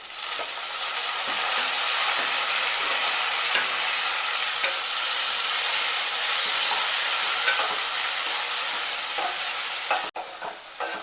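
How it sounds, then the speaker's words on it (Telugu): Tomatoes cook down in a hot pan over a fried tempering for a Telugu brinjal curry, giving a steady, loud, close sizzle with faint stirring scrapes, running alone without talk until a brief dip near the end. "ఇప్పుడు మనం టమాటాలు వేసుకొని కొంచెంసేపు మగ్గించుకుందాం"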